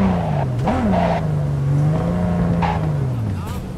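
Car braking and skidding in the Cyberpunk 2077 video game, a steady engine drone with a brief squeal-like sweep near the start, heard under continuous talk.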